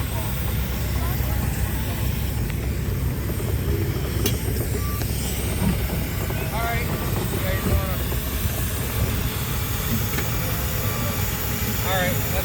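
Steam traction engines and pint-sized threshers run at a threshers reunion in Ohio, giving a steady rumbling mechanical drone with faint hissing and clanking throughout, under a busy outdoor crowd murmur and some distant voices.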